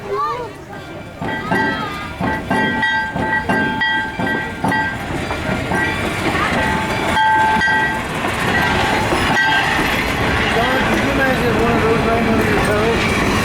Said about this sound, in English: our train makes its way back to the locomotive shops to finish its day.